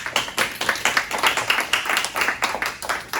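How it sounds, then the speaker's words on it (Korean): Clapping for a student at a youth church service, a small group clapping in an uneven rhythm of distinct claps, moderately loud and close. "예은이를 위해서 박수"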